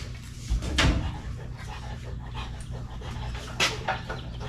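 A dog panting close to a 1969 station wagon's muffler during an engine swap, with quick breathy pants over a low background hum and a couple of soft knocks.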